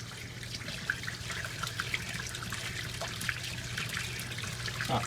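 Dirty rinse water with cleaner drains away after a rinse cycle, a faint, steady trickle with soft drips over a low hum and no speech.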